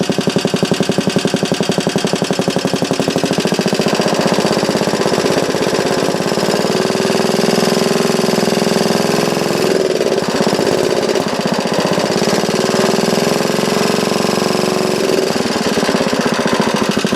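Small engine fitted with a homemade cast muffler runs continuously and loudly up close, a harsh rapid putter with a steady buzzing drone and slight dips in pitch throughout.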